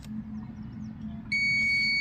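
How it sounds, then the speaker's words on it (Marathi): A TVS iQube electric scooter gives its startup beep, a steady electronic tone that switches on partway through and holds loud and clear to the end, over a low background hum. "असा बीप आवाज आल्यानंतर हे बघा"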